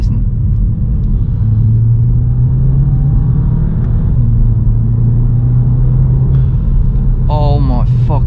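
A Volkswagen Scirocco's engine drones loudly and steadily from inside the cabin on a drive, its pitch wavering slightly as the car pulls along.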